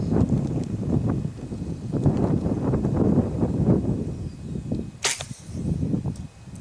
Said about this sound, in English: take a shot at this beer can at 100 yards